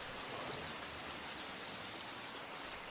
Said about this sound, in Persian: چی یک باران شدیدی؟